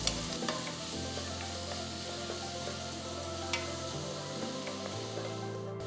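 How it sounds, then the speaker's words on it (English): Chopped onions, pounded garlic cloves and slit green chilies sauté in a pot, giving a steady close sizzle of frying with occasional light stirring scrapes throughout, and no voices. "add 2 finely chopped onions, 10 cloves of garlic slightly pounded, 3 green chilies slit and sauté them till the onions are soft and nice"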